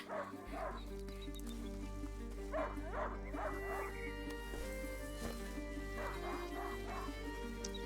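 A hunting dog in the video game A Plague Tale: Innocence gives several short barks and yips in spaced bursts over a steady low background hum.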